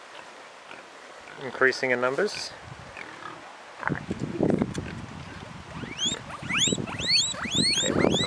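Guinea pigs squeak repeatedly in rising, chirping whistles on a smallholding with ducks, the calls quickening and overlapping near the end after someone speaks briefly.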